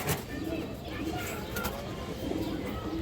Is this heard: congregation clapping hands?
no